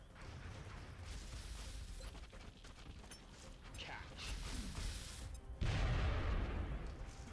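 A grenade explosion in the turn-based strategy game XCOM Long War lands as a heavy, broadband boom near the end, after a stretch of mechanical clicks, whooshes and game effects.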